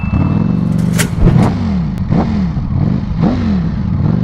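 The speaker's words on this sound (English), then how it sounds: "sit here and freaking rev this thing. Listen to that sound." A Ducati Panigale V4S motorcycle engine revs loudly and close up, its pitch sweeping up and down in repeated throttle blips over a steady idle rumble.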